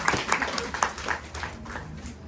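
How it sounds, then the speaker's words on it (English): An audience applauds after a group exercise, a dense, even patter of many hands clapping at moderate loudness throughout. "Give yourself a round of applause."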